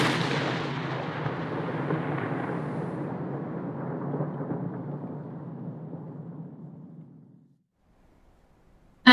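An explosion recorded for game audio by DICE bursts out as a single deep boom that rumbles and fades slowly over about seven seconds, heard alone, then leaves silence.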